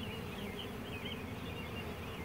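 Honey bees being installed from packages into a beeyard hive, a dense steady buzz from many bees swarming close by, with no voices.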